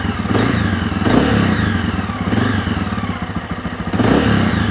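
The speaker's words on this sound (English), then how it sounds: "So we'll turn on the engine." A motorcycle engine fitted with a Trail Tech Vapor gauge idles with a clattering rumble close by, rising into several quick revs that climb and fall back.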